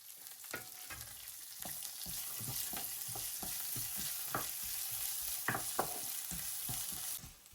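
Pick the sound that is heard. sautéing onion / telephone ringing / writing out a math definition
sautéing onion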